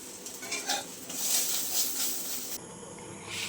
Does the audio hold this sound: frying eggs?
yes